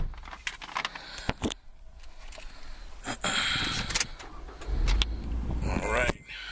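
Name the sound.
2015 Scion tC car engine starting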